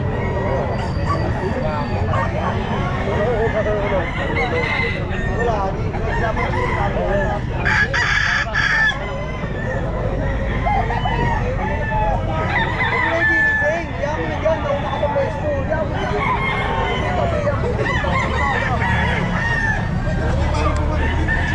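Lemon Sweater gamefowl roosters crow at a busy pet market, loud overlapping crows and clucks over constant crowd noise, with people talking throughout.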